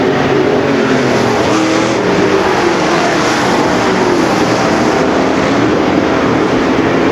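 Super Stock race cars roar around an oval track at a Topless Nationals feature, a dense, continuous, loud engine drone with pitch shifting as the pack passes through the turns.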